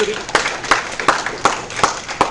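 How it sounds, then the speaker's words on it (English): Audience hands clap in a steady, evenly spaced rhythm, about six distinct claps close to the listener, as a round of applause for a speaker at a talk. "give hey. Kelly a big round of applause."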